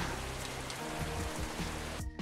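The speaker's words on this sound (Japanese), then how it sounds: "小雨の降る中" Light rain falling in the video game Amane Switch, a soft, steady hiss of drops that continues without a break until it cuts off abruptly at the very end.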